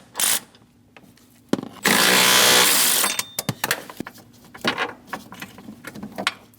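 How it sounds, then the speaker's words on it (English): A power tool fitted with a 15mm socket removes steering column bracket nuts on a Chevrolet Express 2500 van, giving a loud close whirring burst of about a second amid scattered clicks and rattles of the work. "Using a 15mm socket, we're going to remove the 2 nuts for our steering"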